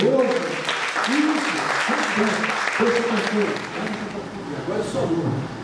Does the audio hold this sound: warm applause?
yes